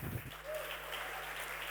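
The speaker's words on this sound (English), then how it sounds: "Give them a round of applause" Audience applause at a design conference talk, a steady dense wash of clapping that fills the hall throughout, briefly mixed with a few voices at the start.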